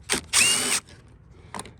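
A power drill runs in two short bursts, first a brief whir and then a longer higher whine, while removing screws from a Yard Machines lawn mower, followed by a faint short buzz.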